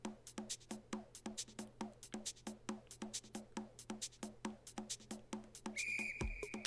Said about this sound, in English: Oh, it's a whistle.